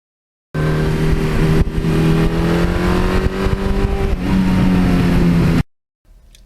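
1982 Suzuki GS1100E motorcycle with stock mufflers, its inline four engine droning steadily with a smooth tonal exhaust note that rises and shifts slightly, heard close and fairly loud before cutting out.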